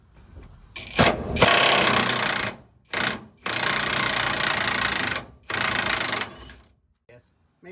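An impact wrench hammers at a rusty 15/16 leaf spring eye bolt on a 1980-1996 Ford F-150, sounding in several loud close bursts of rattling impacts separated by short silences.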